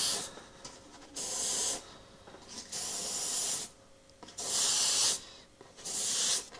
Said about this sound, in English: I'm going to move the template while I spray.